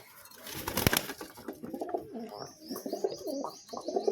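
Madras breed pigeons coo in low, throaty rolls close by, with soft rustling and a sharp click early on, faint chirps higher up.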